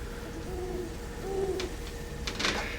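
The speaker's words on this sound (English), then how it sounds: "It's weird to me that you can hear owls and you never see them." An owl hoots a few times in soft, low calls over a quiet ambient background on a ridge in Zelda: Breath of the Wild, moderately distant and alone.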